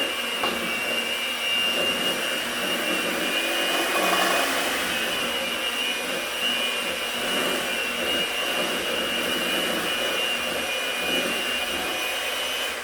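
An electric hand mixer whirs steadily as it beats lemon cake batter with granulated substitute sweetener, a loud continuous motor drone with a high whine, running without pause and without talk.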